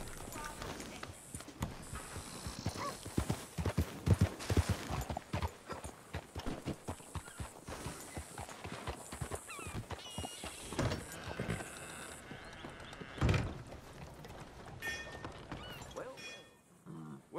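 Hooves clip-clop in an irregular walking rhythm close by, with a horse snorting and shifting, while people speak intermittently over the clopping.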